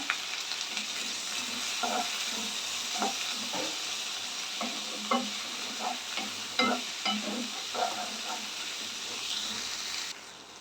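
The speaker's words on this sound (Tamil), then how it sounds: "அதையும் சேர்த்து கொஞ்சம் நல்லா வந்து வதக்கி விட்டுருங்க" Small tomatoes sauté in oil for chana masala, a soft steady sizzle with frequent clinking, scraping stirs, fairly quiet and close, ending abruptly near the finish.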